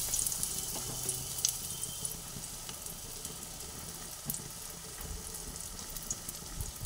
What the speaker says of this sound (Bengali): দেখুন তেলের মধ্যে দিয়ে দিয়ে সব কটাকে ভেজে নিচ্ছি।